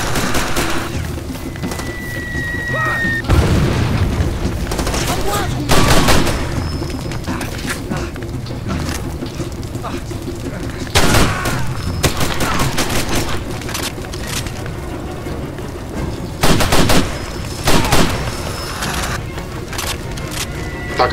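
Gunfire and explosions from the shooter game Far Cry 2, with repeated loud bursts of shots and booming blasts breaking over a constant roar of battle, some close and some more distant.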